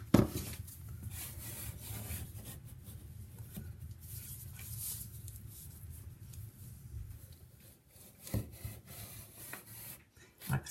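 Excess sealant being wiped off along a floor edge beside a toilet: soft, close rubbing strokes of a cloth or finger run steadily, easing near the end before a few sharper scrapes.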